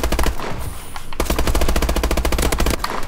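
Rapid automatic gunfire from the shooter game Call of Duty: Advanced Warfare, loud, dense bursts of shots with a brief pause near the start, then sustained firing.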